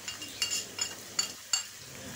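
A spatula stirs green eggplant and anchovy stir-fry in a pan, giving four or five soft scraping strokes with light clinks over a faint, steady sizzle.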